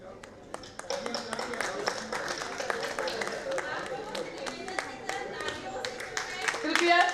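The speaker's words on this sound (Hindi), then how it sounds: "कृपया तालियां बजाकर अभिनंदन कीजिए हमारे अतिथियों के।" Scattered hand clapping from an audience welcoming guests at a Hindi language and literature conference, sharp irregular claps at moderate distance filling the hall.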